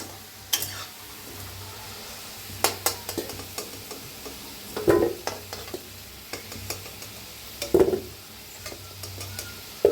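Potato pieces and cauliflower frying in hot oil, a soft steady sizzle with intermittent stirring scrapes and a few louder clinks of a utensil against the pan, close and alone.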